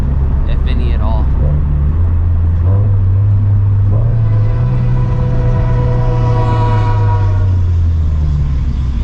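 Freight train passing at night beside a car, a deep rolling rumble with a drawn-out horn blast sounding partway through, heard over a loud car exhaust and with a person talking.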